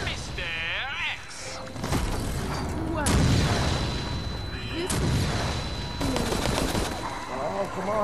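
Rapid bursts of video game gunfire crackle through a chaotic multiplayer match, loud and repeated in clusters, mixed with excited voices talking over the shots.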